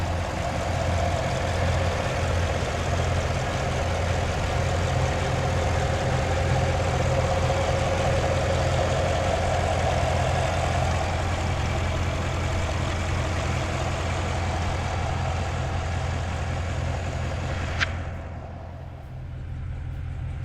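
A 2021 Cadillac Escalade's 6.2-liter engine idles under the open hood, a steady, loud, close rumble with no voices, easing slightly near the end.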